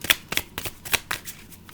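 Tarot cards shuffled by hand in a run of crisp riffling bursts, about six quick shuffles spaced evenly, close and moderately loud with no talking.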